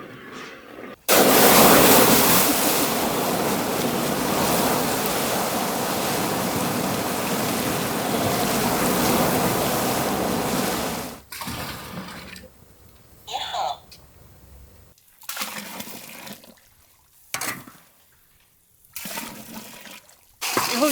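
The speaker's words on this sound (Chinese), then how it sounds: "要准备开始加水了" Boiling water poured into a wok of caramel sugar colour being cooked, a loud continuous gushing hiss for about ten seconds, then stopping, followed by quieter clatter and people talking.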